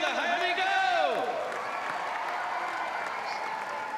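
Audience at the Liverpool International Horse Show cheering and applauding around the show jumping arena, a broad wash of clapping and crowd noise with a public address voice briefly over it at the start.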